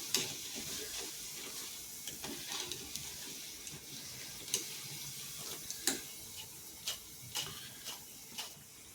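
Bonda fry in hot oil with a steady, close sizzle, punctuated by sharp crackles and pops every second or so and no voices over it.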